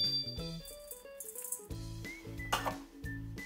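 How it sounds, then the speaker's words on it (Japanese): Freshly fried setsubun soybeans, drained of oil and tipped into a larger bowl, rattle and clatter crisply in quick dry bursts, close and fairly quiet, with no one talking. "油切ったら別のちょっと大きめのボウルに入れ替えて、もう音がねカリカリって感じですよね"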